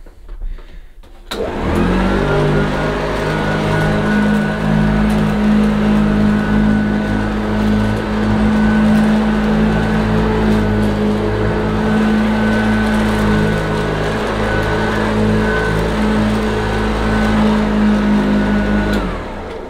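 A small vacuum cleaner runs steadily and loud close by, starting abruptly after a brief quiet moment and holding a constant whine and motor hum throughout.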